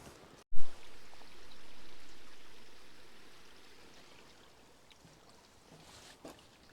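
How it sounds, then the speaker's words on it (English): Rainwater runs off the hills beside the Cornwall coast path in a steady, broad rush of trickling and splashing that swells early on and then slowly fades. "Water coming off the hills."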